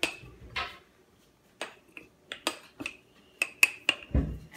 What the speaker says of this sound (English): Make sure you keep it in, keep the spoon in, and then mix, mix, mix off inside the mason jar